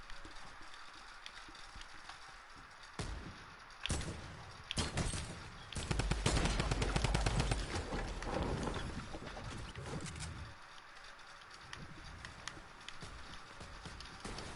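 Gunfire from the Fortnite video game, with a dense burst of rapid shots and impacts in the middle set against steady game ambience, fairly loud and with no clear talking.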